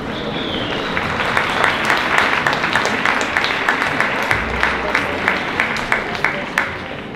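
Audience applause at the Nokota Challenge 2024 horse event, a steady, moderately distant crowd clapping that carries on for several seconds with sharper individual claps standing out.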